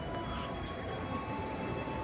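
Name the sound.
Gaya Baru Malam Selatan train arriving at station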